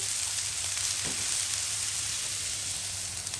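Yellow sweet onion sizzles steadily on a hot Blackstone flat-top griddle, a constant close hiss of frying with no voices.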